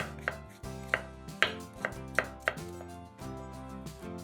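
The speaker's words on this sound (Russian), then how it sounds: "500 грамм шампиньонов моем, разрезаем пополам и нарезаем произвольными кусочками." A knife chopping button mushrooms on a board, with about eight crisp, evenly spaced cuts close to the listener, set against steady background music and no talking.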